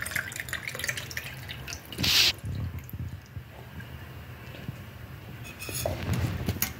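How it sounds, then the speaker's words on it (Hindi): Water from a cut fruit poured into a glass in a home kitchen, a thin trickling and dripping stream with a brief louder splash, fairly close and otherwise quiet. "और जो इसका पानी है वो हम एक गिलास में डाल देंगे"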